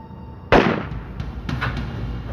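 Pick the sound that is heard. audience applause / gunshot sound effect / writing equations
gunshot sound effect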